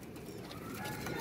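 Soft pigeon cooing in a noisy background, faint and low, with a gentle murmuring rhythm.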